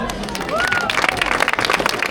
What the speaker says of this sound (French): Merci à vous, vous pouvez vous applaudir.